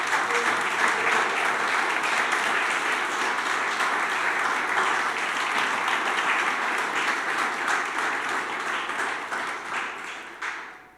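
A church congregation applauds steadily and loudly for about ten seconds, the clapping thinning and fading away at the end.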